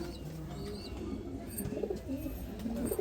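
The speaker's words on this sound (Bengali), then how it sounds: "এটা মাদি পায়রা।" A female pigeon coos in low, soft, rolling notes that repeat and grow slightly louder toward the end, heard close under faint background hiss.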